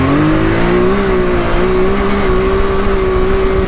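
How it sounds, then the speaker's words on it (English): A Can-Am X3 side-by-side accelerates off-road, its engine holding a loud, close, steadily rising whine with gritty low rumble throughout, no voices over it. "I feel like this thing takes off better."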